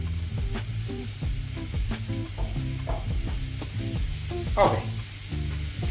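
Lamb kofta patties sizzle steadily in a hot pan, a constant crackling fry with a brief louder spatter near the end, while someone speaks briefly over it.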